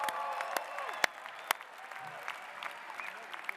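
A graduation audience at the David Eccles School of Business applauds, a spread of scattered claps from a moderately distant crowd with sharper individual claps standing out.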